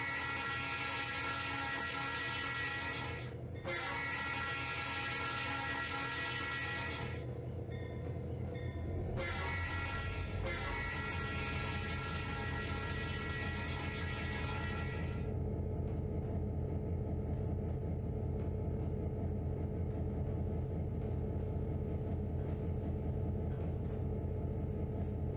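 A Conrail coal train on the Laurel Mine spur sounds its Leslie air horn for a crossing: loud, sustained chord blasts with short breaks, then the horn stops and the rumbling train carries on alone.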